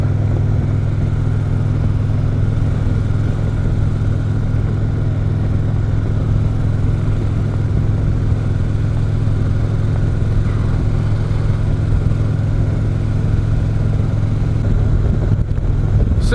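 Dirt bike ridden steadily along a trail, its mid-pitched engine droning loud and close with a constant low rumble and no voices over it.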